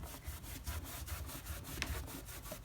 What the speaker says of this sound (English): what I'm going to do is go over with a dry cloth and just wipe away the areas that I have the petroleum jelly